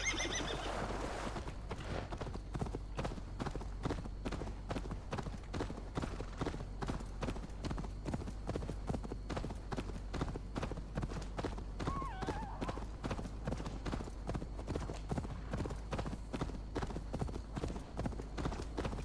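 Hoofbeats of a horse galloping in the Assassin's Creed Valhalla video game, a steady rapid clip-clop rhythm throughout, with a whinny near the start and a low constant background rumble.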